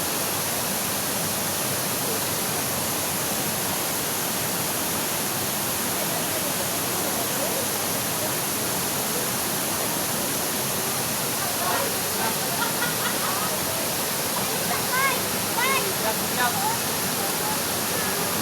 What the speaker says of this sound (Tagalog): Hagimit Falls guys.